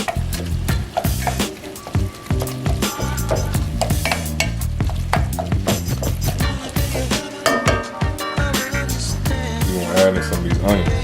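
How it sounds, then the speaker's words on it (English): Meat browning in a pan for stuffed shells crackles and sizzles steadily and close, broken by frequent scraping and clattering stirs with a utensil against the pan, with no talking. "As I start to cook and brown up right there, you see the color starting to get in there."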